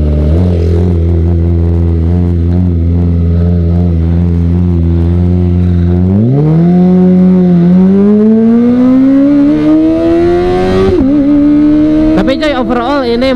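A modified Kawasaki Ninja ZX25R motorcycle runs close by with a loud, steady engine note, then revs up sharply twice, its pitch climbing each time before dropping off near the end.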